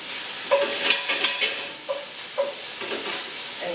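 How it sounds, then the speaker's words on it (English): Beef browning in a very hot pan, sizzling steadily with several sharper bursts of spatter as the meat is stirred and moved about, close and fairly loud with no voices. "So I've got our beef going back here, and it should brown up quickly."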